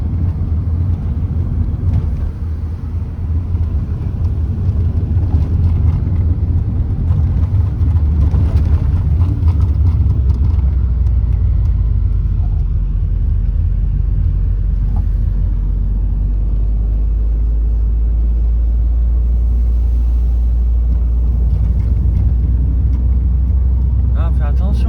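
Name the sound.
car driving slowly on a small Italian road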